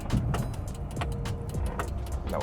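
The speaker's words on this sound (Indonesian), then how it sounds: "Kita coba putar balik nih ya kalau mau lihat lingkar putar setir ya" Engine of a 2001 Hyundai Atoz 1.0L idling low and steady inside the cabin as the small car makes a slow U-turn, with a soft continuous hum and faint clicks.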